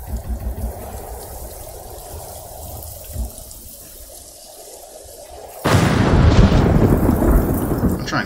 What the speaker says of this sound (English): Catch that thunder.